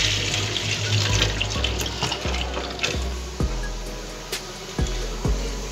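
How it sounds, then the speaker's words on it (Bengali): Hot water from a pot of boiled chow mein noodles poured into a colander in a kitchen, a steady rushing splash with occasional clunks and drips, close and continuous without speech. "দেখুন জলটাকে আমি এই ঝাঁজির মধ্যে ফেলে দিলাম।"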